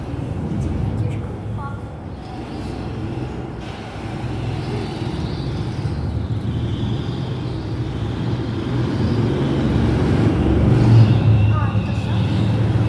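Go-kart engines buzzing steadily as the karts drive around a track in Barnaul, a continuous mid-distance motor drone that swells toward the end, with people talking over it.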